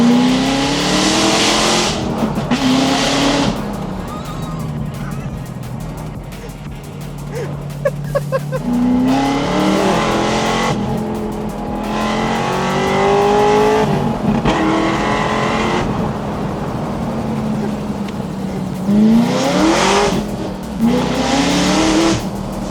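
Corvette V8 roaring as it drives, loud close bursts of acceleration with rising gear pulls, brief lifts and shifts between them, and a few tyre-squeal edges, engine dominating throughout.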